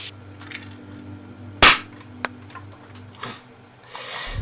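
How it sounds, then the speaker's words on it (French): Firecrackers pop in the Fortnite video game at the season 2 chapter 3 end event, one loud sharp bang followed by a few fainter snaps and crackles over a quiet background. "est-ce qu'on peut fêter ça par des pétards?"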